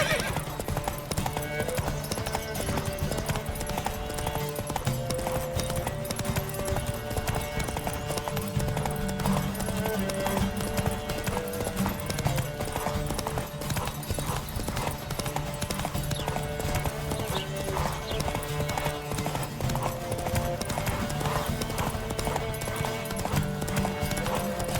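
Horse hooves clip-clop in a steady, continuous rhythm in The Witcher 3, loud and close throughout, with occasional whinnying and a busy layered game soundscape underneath.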